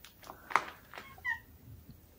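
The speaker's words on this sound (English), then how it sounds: "It's our neighbour's cat." A neighbour's cat meows a few times nearby, short soft calls separated by pauses in a quiet indoor setting.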